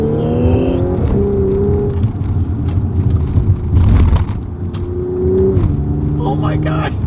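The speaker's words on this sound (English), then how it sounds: "such an organic, intoxicating noise that this car makes" A 2013 Audi S5 engine and exhaust rumble loudly up close, with steady revs and a couple of pitch rises, while someone talks over it.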